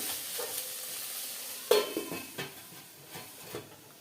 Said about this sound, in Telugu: ఇప్పుడు దీంట్లోకి మనం ఉడకబెట్టుకున్న బఠానీ వేస్తున్నాము ఇది కూడా కొంచెం నూనెలో వేగాలి